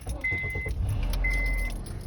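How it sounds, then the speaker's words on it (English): A truck engine running steadily at idle, a continuous low rumble that stays loud and close throughout, with faint metallic jingling on top and no talking. "Not while the engine's running."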